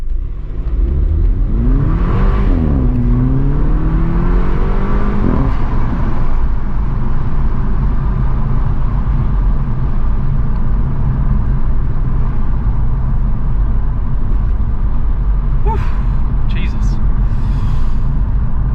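A Mini Cooper S F56 fitted with an NM Power Module accelerates hard, its engine note climbing steadily through the gears in the first seconds and then settling into a sustained loud drone with road roar, while people talk over it inside the cabin.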